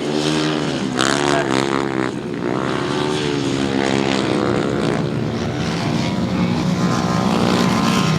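Several 500cc sidecar outfits race on a grasstrack circuit, their engines roaring loud and continuous with rising and falling revs as machines pass close by, no talking heard.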